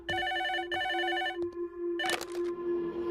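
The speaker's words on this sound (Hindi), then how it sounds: "ये फोन तेरे लिए है, जा जाकर उठा।" An old-style telephone bell rings in two long bursts, loud and close, then the ring cuts off and a handset clatters as it is picked up.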